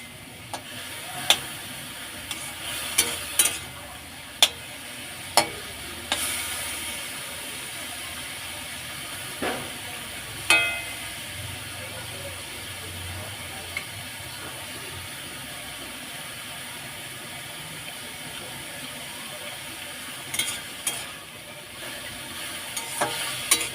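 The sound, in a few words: frying and stirring radish greens (mulo shak) in a pan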